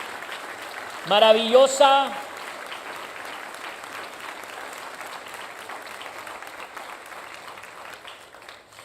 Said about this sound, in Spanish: ¿Podemos soltar un aplauso reconociendo esta palabra